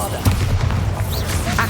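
A Bombarda blasting spell goes off in the video game Hogwarts Legacy on PC: a sharp, booming blast lands early and is trailed by scattered impacts and whooshing effects, with spoken voices over the top.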